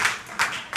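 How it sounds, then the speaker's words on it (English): A few distinct bursts of audience clapping at a comedy show, three short, sharp rounds of hands clapping in quick succession, fairly close and without talk. "You can clap, it's fine."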